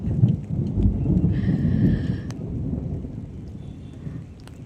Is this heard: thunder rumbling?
yes